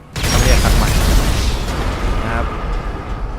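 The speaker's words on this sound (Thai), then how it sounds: "ต่อไปก็ระเบิดรถคันนี้ทิ้ง" A loud, deep boom bursts out and rumbles on, slowly fading, as a car explodes in GTA Online.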